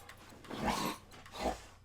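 A dog barks inside a house, two muffled barks about three-quarters of a second apart, fairly distant and over faint room noise.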